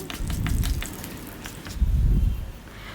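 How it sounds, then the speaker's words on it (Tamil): Cumin seeds splutter and crackle in hot oil for a drumstick leaf soup, a close, dense sizzle with scattered pops and no talking. "ஆயில் ஹீட் ஆனதுக்கப்புறம் ஒரு ஸ்பூன் ஜீரகம் போட்டு நல்லா பொரிஞ்சு வரட்டும்."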